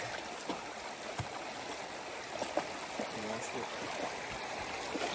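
A river stream flowing at a free campsite in the White Mountain National Forest, a steady rushing wash with scattered splashes and people talking over it.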